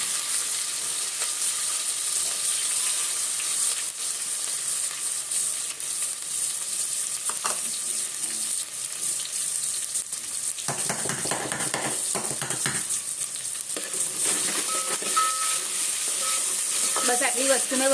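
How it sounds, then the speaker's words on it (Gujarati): Onion, green chilies and a dried red chili sizzle in hot tempering oil for Kathiyawadi khichdi, a loud continuous close crackle with stirring scrapes and spoon clatter through the middle, no voices. "બસ આટલી વસ્તુ મેં વઘારમાં નાખી છે"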